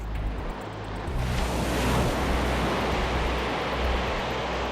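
Freak waves surge at sea in gusty wind off a merchant ship in the South Atlantic, a broad rushing wash that swells louder after a low rumbling start and stays steady, with no voices.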